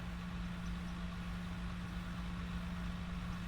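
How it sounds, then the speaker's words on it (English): A video game tractor engine idles with a low, constant hum and rumble, unbroken and fairly quiet, no other sounds over it. "Tractor's actually louder when you're really close to it."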